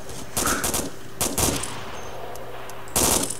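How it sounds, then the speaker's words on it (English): Arma 2 gunfire in short bursts, three clusters of rapid shots separated by brief pauses over a low steady hum, close and loud. "I'm just shooting randomly."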